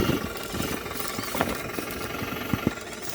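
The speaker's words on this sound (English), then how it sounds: "The way it was making the motors sound under strain" An SCX6 Clod RC crawler with two brushless motors and ESCs straining, giving an uneven whirring drone broken by sharp bursts and knocks as the load surges, fairly close and without talk.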